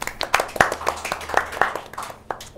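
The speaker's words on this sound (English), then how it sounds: "Everyone, let's quickly clap." Sparse, scattered clapping from a small studio group during an esports broadcast of a space strategy game tournament, uneven claps close by with faint murmuring underneath.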